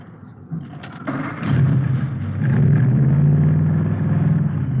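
A hot rod's 120-horsepower engine cranks and roars to life, settling into a loud, rumbling idle with a deep throaty growl close by.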